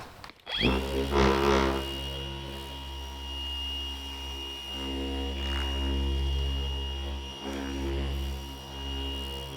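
Phoenix EOD polisher with a wool pad spinning up and polishing piano black car trim, a steady humming motor whine that starts abruptly and holds with slight dips as it works, close and prominent.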